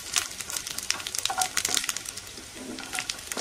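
Ingredients for jackfruit payasam sautéing in a pan, a close, steady sizzle with scattered crackles and a few light stirring scrapes, no voices.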